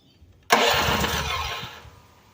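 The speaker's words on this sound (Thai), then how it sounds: "แล้วบิดกุญแจนะครับ พร้อมทั้งบิดคันเร่งช่วยนิดหน่อยนะครับ" A small vehicle's engine is started with the key and a little throttle, choke set: after a brief quiet moment it catches abruptly and roars into loud, steady running close by, easing slightly as it settles.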